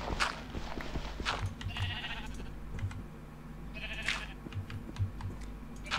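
Sheep bleating in the IndustrialCraft modded block-building game, short repeated calls over a busy layer of game sounds and clicking, moderately loud throughout.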